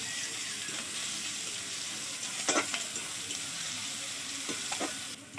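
Garlic paste fries with chopped onion in a pan for a prawn and banana flower dish. A quiet, continuous sizzle is broken by a few soft stirring scrapes.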